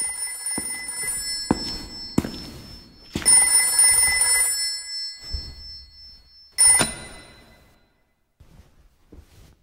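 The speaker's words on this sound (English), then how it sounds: "Don't answer the phone." Telephone in the video game Haunting Grounds ringing in repeated loud bell bursts separated by short gaps, with a final ring and then near silence, no voices present.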